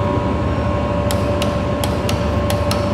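About six sharp, light clicks at uneven spacing from brake disc bolts being tightened with a torque wrench on a Yamaha XMAX 250cc scooter, heard over a steady loud background hum.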